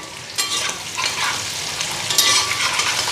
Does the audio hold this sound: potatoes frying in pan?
yes